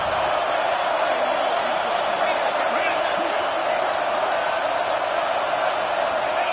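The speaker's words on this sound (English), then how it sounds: "This crowd is trying to inspire this defense to make a big red zone stop" Stadium crowd noise in a college football video game, a loud, steady roar from a large crowd building to rally the defense near the end zone, continuous without breaks.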